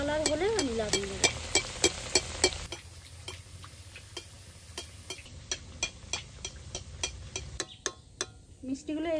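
Small sweets deep-frying in hot oil, a ladle tipping oil over them in repeated sharp ticks and clacks against a steady sizzle, heavier stirring at the start, close and moderately loud.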